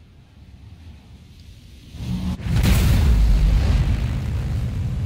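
Size 9 photon torpedoes fire in a space combat video game, a quiet rising rumble swelling into a loud, sustained deep explosion boom that keeps roaring to the end.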